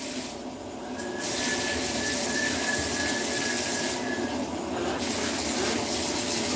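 Tap water runs steadily into a tub being refilled for three birds, a constant rushing stream, close and moderately loud, that swells after the first second and holds with a faint tonal whine throughout.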